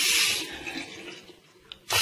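Water gushes from a newly fitted mixer tap into a household sink, a loud rush at first that eases to a softer stream, then surges again near the end.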